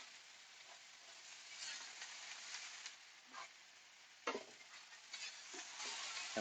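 Mushrooms frying with onions and garlic in a pan give a bright, continuous sizzle, broken by a few close scrapes and stirring knocks, with no voices.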